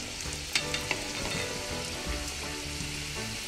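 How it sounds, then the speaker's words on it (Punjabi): Ring samosas, a halwai-style street snack, fry three at a time in oil in a large kadhai, giving a steady close sizzle with a few sharp pops and clicks from stirring. "ਰਿੰਗ ਸਮੋਸਾ ਆਪਣੇ ਆਪਣੇ ਤੇਲ 'ਚ ਫਰਾਈ ਕਰ ਲੈਣੇ"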